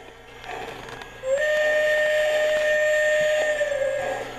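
Steam whistle effect from a Lionel LionChief Pennsylvania keystone toy train set, a single sustained blast lasting about three seconds, loud and close, with no talking over it.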